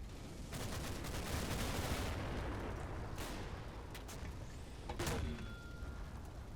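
Anti-tank guns firing in Combat Mission: Battle for Normandy, with a steady rumble of battle and several sharp reports, including a loud crack near the end, with no talking.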